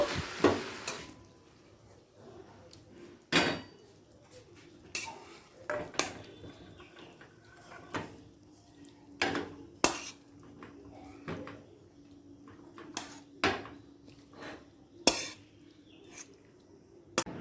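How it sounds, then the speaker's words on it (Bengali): Cooked Malabar spinach greens with fish head are moved into another pot, sharp metal utensil clinks and scrapes striking irregularly about a dozen times over quiet kitchen background. "এবার অন্য পাত্রে তুলে নেব"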